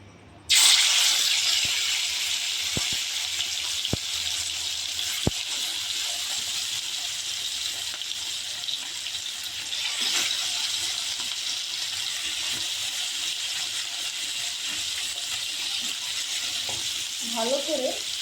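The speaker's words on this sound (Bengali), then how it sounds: "ভালো করে কই মাছ ভেজে নেব" Koi fish frying in hot oil in a wok, a steady loud sizzle that flares as the fish goes in and holds continuously throughout, with occasional faint clinks of utensils.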